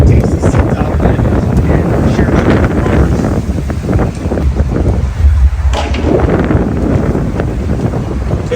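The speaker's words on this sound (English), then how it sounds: "It's a windy one today. I'm sorry if you're getting any feedback of that wind." Strong wind buffets a microphone outdoors at the Anoka Halloween giant pumpkin weigh-off, making a loud, continuous rumbling roar with gusty surges throughout.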